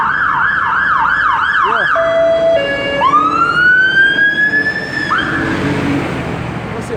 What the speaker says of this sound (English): A couple of fire engines down the road, you know?